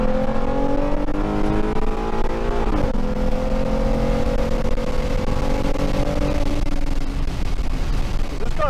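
A 2013 Mustang with the 3.7 engine, a 6R80 automatic transmission and an MPT tune pulls hard under full throttle. The engine drone climbs in pitch, drops briefly at a shift near three seconds, then rises again, loud and heard from inside the car.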